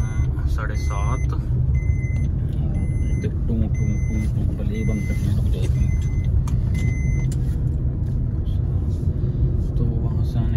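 A car rolling into a parking lot gives a steady low engine rumble and road noise throughout, close and continuous, with faint repeated electronic beeps above it.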